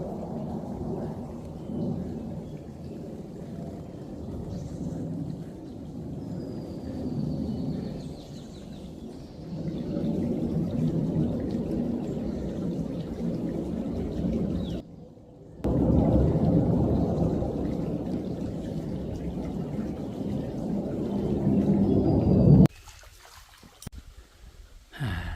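Keungol waterfall on Munsusan mountain near Ulsan gives a steady, broad rushing roar of falling water that fills the whole stretch, broken by a couple of brief gaps.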